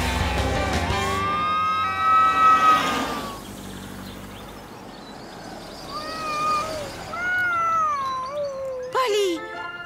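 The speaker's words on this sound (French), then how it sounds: "il y a un chat coincé dans cet arbre" Cartoon cat stuck in a tree mews in rising, wavering calls amid a fire-engine siren wail, with animated characters speaking over part of it.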